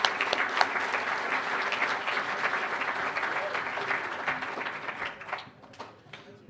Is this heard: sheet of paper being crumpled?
no